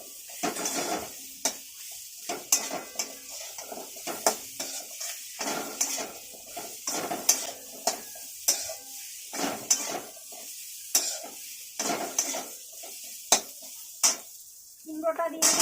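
Potatoes and vegetables such as pumpkin and pointed gourd frying in a pan for a Bengali chorchori, with repeated scraping stirs and clinks of a utensil against the pan over a soft sizzle.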